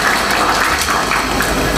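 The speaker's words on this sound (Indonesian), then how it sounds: "Boleh tepuk tangan oleh Konghucu." A dense wash of applause fills a gathering, steady and loud for nearly two seconds with no pauses.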